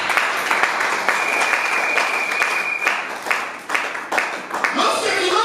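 A church congregation applauds in sustained, dense clapping with rhythmic surges, and a voice speaks over it through much of the stretch.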